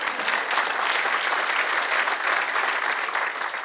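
Audience applause at a city government State of the City address in Bellevue, a steady, dense clapping that stays loud throughout, with no talking over it.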